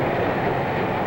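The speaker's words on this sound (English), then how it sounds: "Freight cars behind its diesels" A diesel-hauled freight train of the Midwest around 1950 rolls past as a loud, steady, dense rumble with no break.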